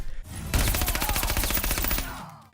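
Rapid submachine gun fire from Spawn in a Mortal Kombat fighting game, a dense, loud burst of rattling shots lasting about a second and a half before cutting off.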